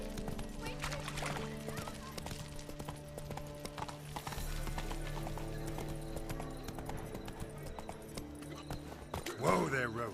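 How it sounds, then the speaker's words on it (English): Horse hooves clip-clop steadily as the horse Roach moves along in the video game The Witcher 3, mixed with game music and ambience, with a brief horse whinny near the end. "Whoa there, Roach"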